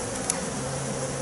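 Honey bees buzzing steadily around an open hive during an inspection as frames are handled, a dense, continuous close hum with no talk.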